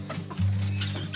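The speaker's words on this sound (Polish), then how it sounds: "Puszczamy sobie dzisiaj kury. Poranne wypuszczanie kurek." Chickens at morning release from their coop, a close hen giving a short low cluck followed by a sustained throaty croon, with faint background clucks.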